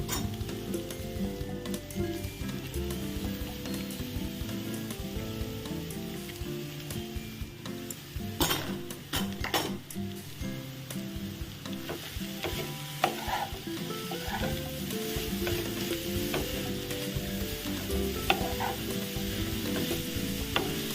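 Beetroot frying with potato, onion and ginger in a pan, a continuous loud sizzle with scraping and clinking from a spatula stirring throughout.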